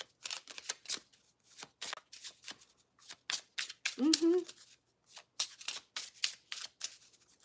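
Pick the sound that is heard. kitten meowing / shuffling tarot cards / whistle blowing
shuffling tarot cards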